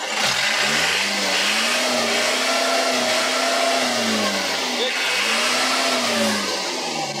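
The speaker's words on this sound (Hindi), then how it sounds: "ऐसे खड़े करके गाड़ी को रेस दोगे तो धुआं मारेगी" Parked truck engine revved while standing still, in Lahore, with a loud, steady mid-pitched roar rising and falling in repeated swells and voices talking over it.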